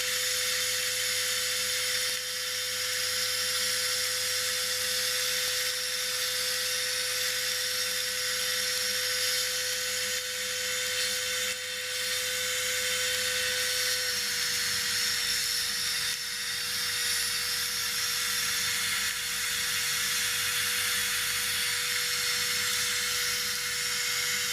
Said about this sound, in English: need to clean the carbon off the cylinder head.